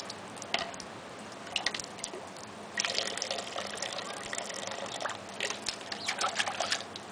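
Water splashes in quick irregular bursts as a sixteen-month-old toddler plays, with soft drips between them and a livelier stretch of repeated splashing near the end.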